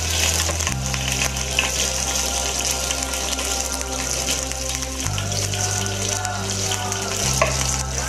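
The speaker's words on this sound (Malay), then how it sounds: "Minyak kita sudah panas, kita menumis serai dulu guys." Lemongrass sizzles steadily in hot oil in a pan, a loud continuous frying crackle with a low hum underneath and no talking.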